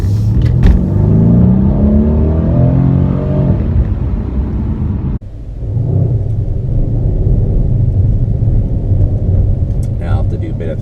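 From the cabin, a Mercedes C63S AMG's bi-turbo 4-liter V8 revs hard, its rising pitch climbing for a few seconds before a sharp cut, then the engine settles into a lower steady rumble and builds again.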